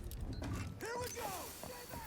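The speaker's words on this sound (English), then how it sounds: "Swapping mags!" A magazine swap reload in Rainbow Six Siege, a short mechanical clack and creak of the mag sliding out and in, quiet, with faint voices underneath.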